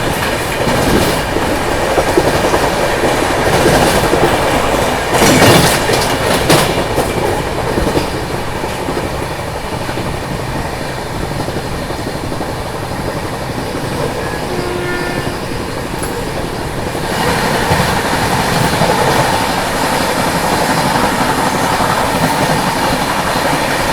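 Mahakoshal Express train running on rails, a steady loud rumble of wheels and carriage noise with rhythmic clatter throughout, heard from inside the moving coach.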